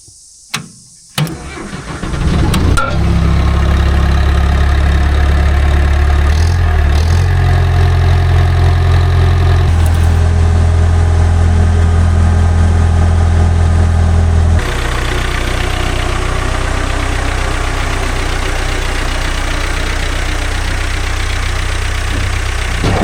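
A vintage machine engine with a winch, recently repaired and running again, coughs through a couple of short bursts, then catches and settles into a loud, steady idle. The idle holds for the rest of the clip, shifting pitch slightly along the way.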